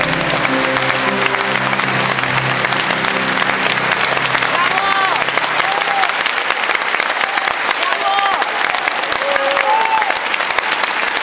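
A live audience at a seniors' singing contest applauds loudly and continuously, with dense clapping, scattered cheers and whistles, and faint music fading out at the start.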